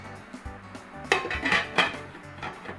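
A lid set onto a cooking pot of cranberry pulled pork, with a few metallic clanks and clinks of pan and lid close by, in short bursts over about two seconds.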